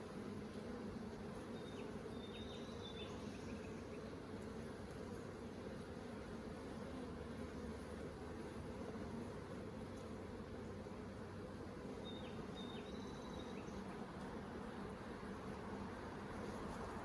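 Honey bees buzz steadily in an open beehive during an inspection, a dense, continuous drone heard up close with faint higher whines from individual bees passing by.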